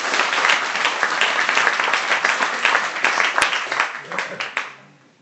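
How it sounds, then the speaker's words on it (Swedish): Warm round of applause from a conference audience at a Swedish industry discussion, dense continuous clapping that fades out toward the end. "En varm applåd för Anna."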